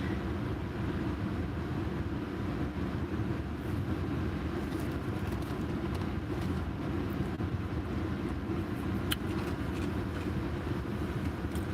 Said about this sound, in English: I have the AC on, so you may hear the AC